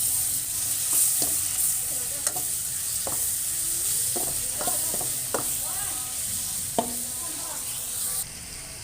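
Tomatoes fry and sizzle in spiced masala in a pan for ridge gourd sabzi, with a steady hiss under a spoon stirring and scraping at irregular intervals, nearby and without talking.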